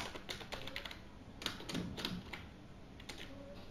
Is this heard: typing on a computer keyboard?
yes